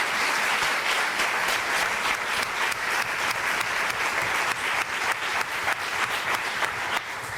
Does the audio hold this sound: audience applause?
yes